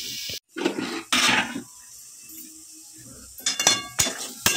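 A lid is set down over a pan of cabbage cooking on a gas stove, making loud metallic clatters and clinks, then a quiet simmering pause before a few more sharp knocks.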